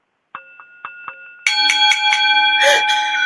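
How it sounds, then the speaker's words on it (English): Handbells rung during a lighthearted talk-show segment: a few isolated clear metallic dings, then a dense run of overlapping ringing tones that sustains loudly to the end, with no talk over it. "it's bell ringing time."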